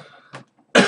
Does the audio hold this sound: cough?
yes